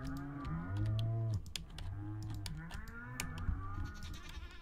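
A goat on a Stardew Valley farm gives bleating calls, several tonal cries in quick succession, fairly close and clear with faint game sounds around them and no talking.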